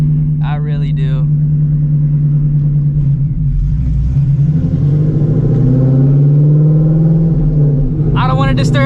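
A ProCharger-supercharged 800 hp Shelby GT350 engine rumbles loudly and steadily, swelling as it revs through the middle, with someone talking briefly at the start and end.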